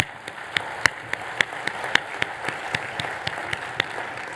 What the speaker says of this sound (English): Let's have another round of applause for that incredible panel.